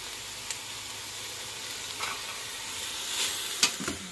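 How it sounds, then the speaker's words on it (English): A spoon stirs meat sauce seasoned with salt, pepper, Italian seasoning, Worcestershire and red wine in an Instant Pot, a soft steady sizzle broken by a few sharp scraping clicks toward the end. "Mix that up and let that cook for about 5 minutes."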